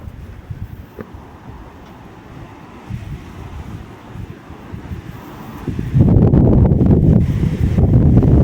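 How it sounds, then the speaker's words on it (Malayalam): Wind roars into the microphone on the coast at Punakaiki, gusting much louder and stronger in the last couple of seconds after a quieter blustery stretch. "നല്ല കാറ്റുണ്ടേ"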